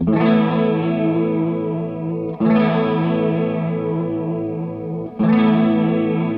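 A sustained guitar chord rings out three times through an analog chorus pedal, each wavering with a deep, wobbly chorus modulation, loud and close with no voices.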